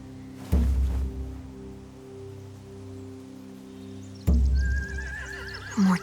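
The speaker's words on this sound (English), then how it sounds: "They have horses." Horses neighing in a Walking Dead video game, two loud whinnies standing out over a steady low musical drone, the second followed by a thin rising tone and a closing thump.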